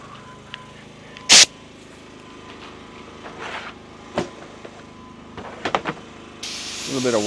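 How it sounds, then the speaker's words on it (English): Hand sprayer misting diluted TEC tire dressing onto tires during a vehicle detail, a few short sharp hissing bursts separated by quieter gaps, close, with some faint background noise. "I'm going to use my sprayer just to brighten them up a little bit"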